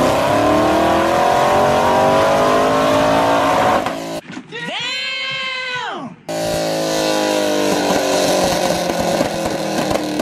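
A Camaro ZL1 engine on a dyno revs hard and holds at the limiter, stuttering against it, drops briefly, then screams back up to high revs, loud and close.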